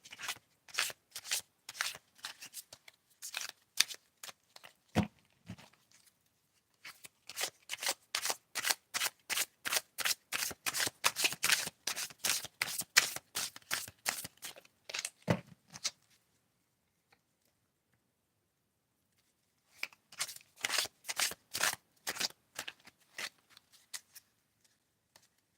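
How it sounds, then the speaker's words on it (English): Morgan Greer mini tarot cards are shuffled in rapid rhythmic bursts of crisp, close papery flicks, pausing briefly between rounds, with no talking. "These cards will probably last longer if you overhand shuffle and minimize on the riffle shuffling"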